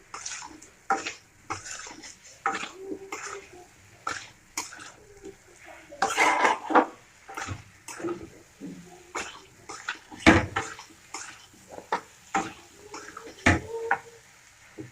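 A spatula gently turns eggs and potato curry in a pan, making a string of irregular close clinks and soft scrapes against the metal, with brief pauses between strokes and no talking.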